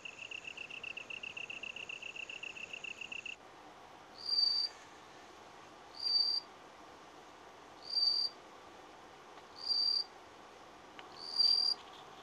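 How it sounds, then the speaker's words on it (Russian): A stem cricket hidden under a leaf calls to attract a mate, five evenly spaced, clear high chirps about every two seconds against quiet night ambience, following a steady buzzing drone of other insects. "четкий звук издает стеблевой сверчок, который прячется на нижней стороне листа"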